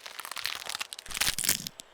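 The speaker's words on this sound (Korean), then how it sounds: "온몸의 뼈에서 갑자기 우지직하는 소리가 났다." A cracking, crunching sound effect of bones breaking throughout a body, with rapid dense crackles and crunches in two close bursts, near and fairly loud with no talk over it.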